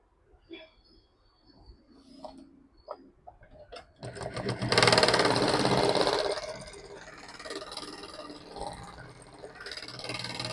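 A sewing machine stitches rexine for a crossbody bag: a few short taps and starts, then a loud continuous whirring run of stitching that eases and keeps going, heard close up with no voices.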